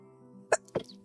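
A single person sneezes in two quick bursts, a sharp intake-like pop followed by a breathy blast, close and fairly loud over a faint tonal hum during a tabletop Dungeons & Dragons game session.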